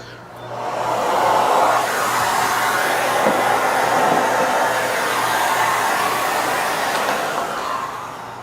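A Miele Guard M1 Parquet XL vacuum cleaner runs steadily up close, a loud, even motor whoosh with a faint low hum that swells in at the start and eases off at the end.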